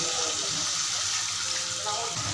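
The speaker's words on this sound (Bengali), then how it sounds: "এবারে নাড়তে নাড়তে এই জলটুকু দিয়ে দিচ্ছি আমি," Spiced water being poured into a pot of dal while it is stirred, a steady hissing, splashing pour that runs close and continuous throughout.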